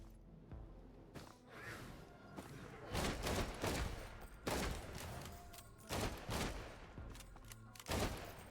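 Missiles launch in the Risk of Rain 2 video game, a series of sharp whooshing bursts in irregular clusters, each a loud broadband blast fading quickly, with faint low rumbling between them.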